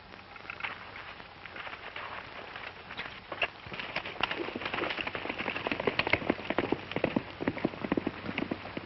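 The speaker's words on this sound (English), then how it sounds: "Say, Stoney, how about using your horse? He's faster than mine." A horse gallops in a 1930s Western setting, hooves clip-clopping in a rapid, steady rhythm that grows louder and closer over several seconds, with no talk.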